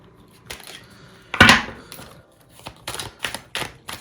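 Tarot cards being handled and drawn, with a series of soft flicks, slaps and shuffling taps, one louder snap near the middle and quick irregular clicks toward the end, nobody speaking.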